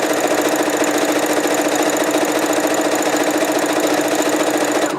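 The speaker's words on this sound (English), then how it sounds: "Lower the presser foot and stitch." Sewing machine stitching straight along fabric, a loud, continuous rapid needle rhythm running steadily close up throughout, with no voices.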